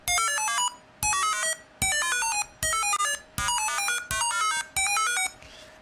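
A repeating electronic space-shooter effect, about seven quick bright chirping arpeggio-like sequences in steady rhythm, loud and synthetic, like a retro game effect.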